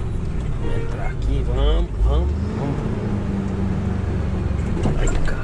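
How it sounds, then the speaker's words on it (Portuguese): A truck drives and maneuvers slowly along a rough, potholed road in northern Minas Gerais, its engine rumbling low and steady throughout while someone talks over it. "Deixa eu manobrar esse caminhão aqui."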